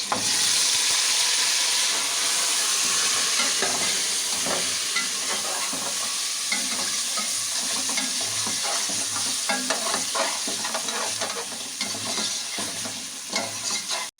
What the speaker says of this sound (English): Saute for 1 minute only.